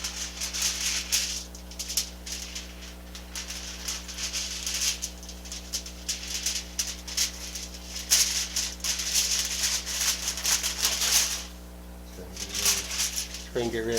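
Scissors cutting out a form from tin foil, giving continuous crinkly rustling and snipping over a low steady electrical hum.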